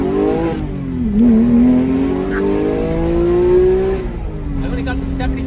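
A Porsche 911 GT3 with a manual gearbox launches hard, its engine climbing in a steady, loud rising whine after a clutch drop, close to the microphone.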